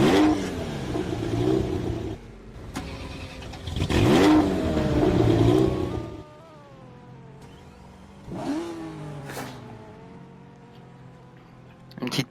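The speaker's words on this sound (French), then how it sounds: "Spawn the car." A Porsche in the GTA video game revs and accelerates in loud engine bursts, with two strong swells early on and a later one, while excited voices talk over it throughout.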